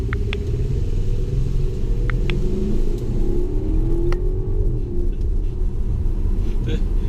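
An Alpina B7 accelerating under power, heard from inside the cabin as a steady low rumble with a rising engine tone as it pulls. The drone stays loud and continuous throughout.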